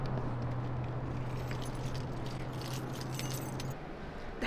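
Keys jangle and clink steadily for several seconds, close to the listener, over a low constant hum with no talking.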